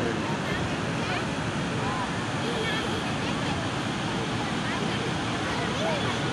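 Water gushing from the opened gates of the Srisailam dam, a constant loud roar and rush that never lets up, with wind buffeting the microphone and faint voices mixed in.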